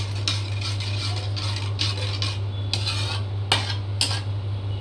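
Food being stirred in a metal cooking pot, a spoon clanking and scraping against the sides in irregular knocks over a steady low stove hum, close up and without talking.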